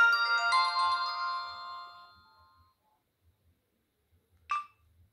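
A ringtone plays loud and clear from the speaker of an Alcatel Big Easy Flip phone on TracFone, a bright melodic run of tones fading out over a few seconds, followed by a short, sharp chime near the end.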